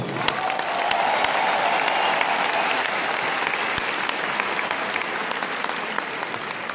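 A big arena crowd at a Ziggo Dome concert in Amsterdam applauds, a thick continuous wash of clapping and cheering that holds steady throughout.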